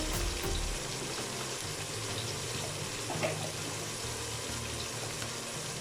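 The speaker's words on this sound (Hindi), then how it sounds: "अभी इसे हम फ्राई कर लेंगे, थोड़ी देर मसाले को पका लेंगे अच्छे से" Minced meat frying in a pan with red chili flakes, turmeric and spices for keema pulao, giving a steady broadband sizzle that stays even and close throughout with no talking.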